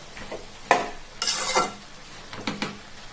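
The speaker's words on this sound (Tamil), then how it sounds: "இதை நல்லா நான் மிக்ஸ் பண்ணிக்கிறேன்" A spoon stirring tomato chutney frying in a pan, scraping and clinking against the metal in several irregular strokes over a soft sizzle, close and alone with no talking.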